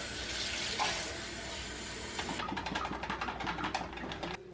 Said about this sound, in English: A little cold water in here.